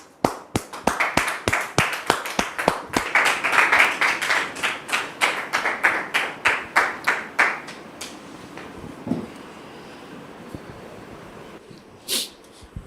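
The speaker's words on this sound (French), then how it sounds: "Merci de les recevoir sous vos applaudissements." A burst of sharp, evenly spaced studio audience applause, fairly loud and close, fading out after several seconds, followed by a few scattered thumps.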